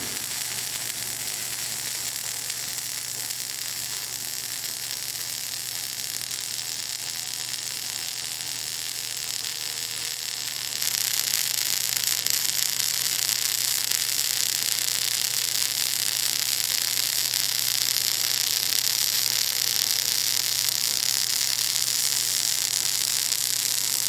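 A Pro Pulse 220 MTS welder runs a vertical-down weld on thin 16-gauge steel, a steady close crackling hiss that grows brighter and louder about halfway through and holds to the end.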